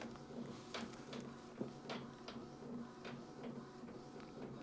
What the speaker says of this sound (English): Now I've set up the printer, it's just doing its magic